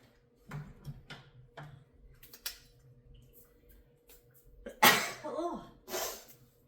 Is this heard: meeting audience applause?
no